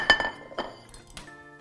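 A glass bowl is set down with a few light clinks and chinks against a countertop, close and clear in a quiet kitchen at a summer barbecue cooking demo.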